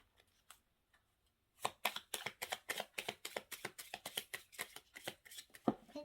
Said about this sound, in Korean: 힌트 카드 3장 뽑아볼게요